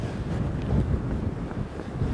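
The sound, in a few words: strong wind blowing into the microphone on a mountain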